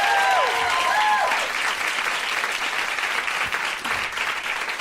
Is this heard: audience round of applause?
yes